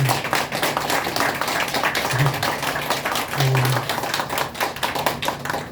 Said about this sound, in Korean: 사무총장님에게 뜨거운 박수 한번 좀 부탁드리겠습니다